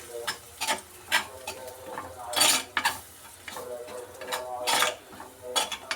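Fish fries in oil in a pan for tuna curry, with bursts of crackling sizzle and stirring scrapes coming in uneven pulses, close and moderately loud.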